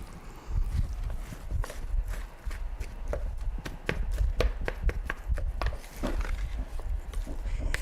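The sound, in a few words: chopping seed pods with a knife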